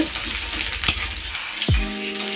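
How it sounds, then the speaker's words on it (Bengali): Onions frying in a pan, a close, steady sizzle with a brief clink partway through and a short low thud near the end. "মুড়ি যখন পেঁয়াজটা কষছি খানিকটা তারপরে মশলা দেবো"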